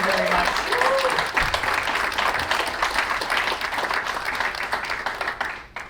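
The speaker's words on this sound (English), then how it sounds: "So I would like to give them a round of applause." A closing workshop audience on historic preservation breaks into a sustained round of applause, dense clapping from a sizable crowd holding steady for several seconds before tapering off at the end.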